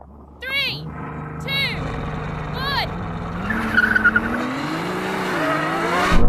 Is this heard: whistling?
no